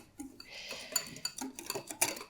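Sugar and custard powder stirred together dry in a bowl, giving light scraping and clinking of a utensil against the bowl in short irregular bursts, close and fairly quiet.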